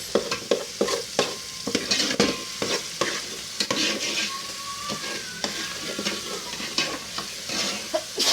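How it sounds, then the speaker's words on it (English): Plantain porridge being stirred in a pot, a spoon scraping the bottom in repeated quick strokes over a steady low bubbling simmer, close and fairly loud with no talking. "You have to turn the thing very well so that it will not burn on the down of the pot."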